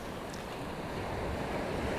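Sea waves wash steadily back out along the shore at sunrise, a continuous broad surf roar with some wind noise on the microphone and no talking.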